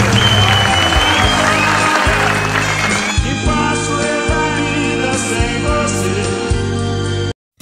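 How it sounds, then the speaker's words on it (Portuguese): A Brazilian TV variety show's studio audience bursts into loud applause and cheering for about three seconds, then gives way to band music with a steady beat that carries on to an abrupt cut. "Então receba os aplausos dessa galera do Brasil todo aqui."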